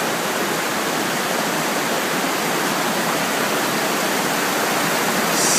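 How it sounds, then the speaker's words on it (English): A large waterfall pours from an opening in stone at a nature spot, giving a loud, continuous rushing roar that stays even throughout with no voices. "a huge amount of water comes out from that space there, and it goes down."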